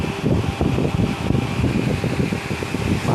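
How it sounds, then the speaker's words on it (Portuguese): A Domina 40 cm electric fan runs with a loud, steady whir and rattly blade hum, close by and continuous with no speech. "Marca domina, muito bom esse ventilador"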